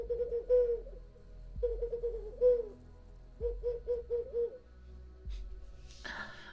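A human voice imitates an owl, giving a series of low, breathy hoots in small groups, two long ones followed by a quicker run of five short hoots, close and fairly quiet, with a brief noise burst at the end.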